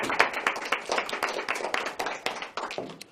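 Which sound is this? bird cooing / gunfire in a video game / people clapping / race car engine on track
people clapping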